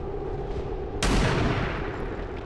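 A single sharp, loud gunshot in XCOM 2, a sudden crack about a second in that leaves a brief decaying rumble over low background noise.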